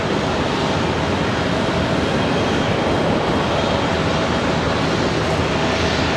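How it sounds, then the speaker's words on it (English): A Boeing 737 jet taxiing at Charlotte Douglas airport gives off a steady, dense jet-engine rush, fairly loud and unbroken for the whole stretch, with no clear talking. "The AirCal on the move now as well, the 737."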